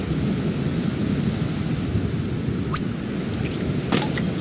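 Steady rain pours throughout in a Winnie the Pooh math video game, with a couple of thunder cracks, one around the middle and a louder, sharper one near the end.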